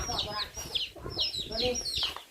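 A chicken clucking repeatedly up close, several quick clucks in a row with some rustling underneath.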